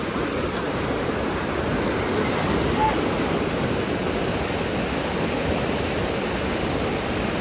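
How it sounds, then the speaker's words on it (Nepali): A river swollen by the rainy season rushes past in a loud, continuous roar of churning water, steady and unbroken from start to finish. "अब खोला त अब ठुलै छ होइन बर्खाको टाइममा"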